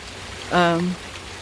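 Steady rain patters and hisses throughout, while a short voiced sound briefly rises above it in the middle.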